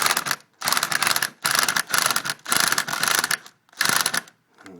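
An impact wrench cranks anchors down while closing in a carport, firing in six loud, rattling hammering bursts of about half a second each, separated by brief silent pauses, with no talk.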